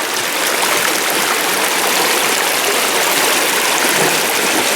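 Mountain creek at Blue River flowing over rocks, close by: a loud, constant rushing wash of water with no pauses, nothing else audible.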